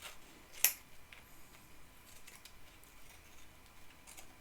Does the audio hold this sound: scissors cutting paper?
yes